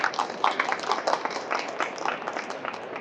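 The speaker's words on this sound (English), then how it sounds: "So round of applause," Audience applause at Nostalgia Con, a fan convention, with dense clapping from a crowd carrying steadily through the whole stretch at moderate level, dotted with sharper individual claps.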